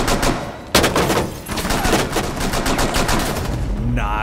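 Rapid bursts of automatic gunfire from a Rainbow Six Siege match, loud and close, with a sharp shot standing out early and a continuous rattling volley after it.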